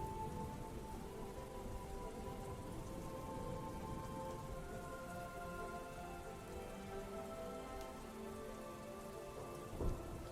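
Steady rain falls during a video game weather scene, making a constant hiss on surfaces with a low thunder rumble underneath and a brief louder crack near the end.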